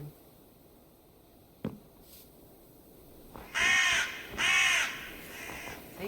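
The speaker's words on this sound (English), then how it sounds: "the crows cawing every now and then." Crows cawing in the Minecraft video game: a sharp click, then two loud harsh caws close together with a fainter call after, over a quiet dark ambient background.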